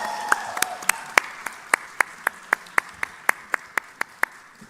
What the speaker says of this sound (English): big round of applause and big congratulations